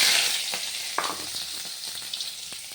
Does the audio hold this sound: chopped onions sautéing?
yes